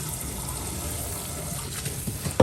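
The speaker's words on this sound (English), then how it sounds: "Just rinse it really good." Water runs and splashes faintly as a rock tumbler polish barrel is rinsed, a low continuous trickle with a few small clunks near the end.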